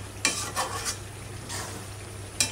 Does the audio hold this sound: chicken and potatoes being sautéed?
yes